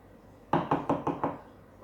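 Five quick, evenly spaced knocks on a door during a Sunday school sermon, crisp and close with a steady rhythm, standing alone against a quiet room.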